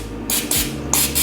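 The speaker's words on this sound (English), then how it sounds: "I'm gonna spray my tin." Cooking spray hisses onto a baking tin in three short bursts, close and loud, with brief gaps between them.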